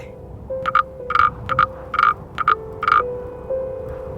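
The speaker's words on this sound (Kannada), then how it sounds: "ಕಪ್ಪೆ" A frog croaks in short, evenly spaced paired bursts, about seven calls in a steady rhythm, close and clear over a faint background with a low continuous tone.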